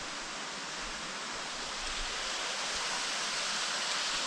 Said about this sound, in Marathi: वॉटरफॉल पण किती छान आहे